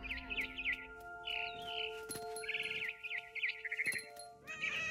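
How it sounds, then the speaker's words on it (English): A barn swallow in What Remains of Edith Finch chirps outside a window, repeated warbling, twittering phrases, close and clear over quiet ambience with a few clicks and thumps. "Then I heard chirping outside my window. It was a barn swallow going back to her nest."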